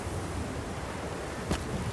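Steady rushing wind noise in the video game The Long Dark, broad and continuous, with a brief sharp click near the end.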